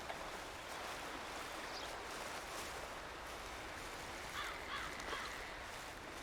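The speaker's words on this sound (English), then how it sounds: "I can hear that raven," A raven caws a few times faintly in the distance within the Red Dead Online game world, over a steady rushing ambient bed of wind or water.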